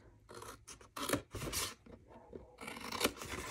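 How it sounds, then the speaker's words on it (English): Scissors snip through paper Christmas banner pieces for a crafting project, a few close, crisp cuts separated by short pauses and light rustling, with no voices. "We're gonna cut this one off right here and cut the other ones apart."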